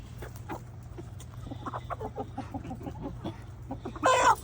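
Chickens cluck in a steady scatter of short calls over a low hum, with a louder burst of fowl noise close by near the end.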